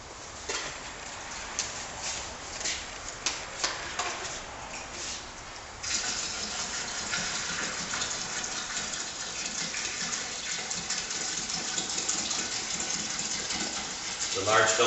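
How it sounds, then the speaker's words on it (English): Plumbing antifreeze pours through a 4-inch fill spout into a winterizing hopper, a continuous gushing fill that grows steadier and fuller partway through. "we want to fill the hopper with plumbing antifreeze. We do that through this 4-inch fill spout"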